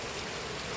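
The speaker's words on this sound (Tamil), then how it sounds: "பின்னாடி எல்லாம் அடைமழை பெய்துட்டு இருக்கு" Heavy rain pours down in Kanyakumari as a dense, even hiss of drops on surfaces, loud and continuous, with no voices.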